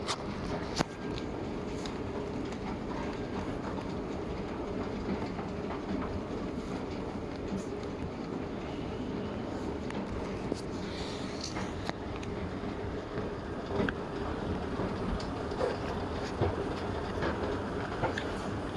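A Riyadh Metro train runs with a steady, even rumble and faint rail clatter throughout, close and continuous, with no voices.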